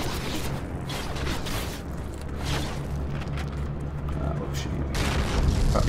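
A Panther tank rolls along in Heroes & Generals, a low engine drone with creaking, clanking track mechanics and scattered distant thumps of battle around it.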